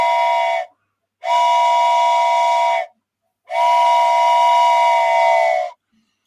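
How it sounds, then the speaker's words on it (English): A loud, close train whistle blows in separate blasts: a short one cut off at the start, then two long, steady, shrill toots with brief silent gaps between them. "Do you mind if I blow the train whistle 4 times?"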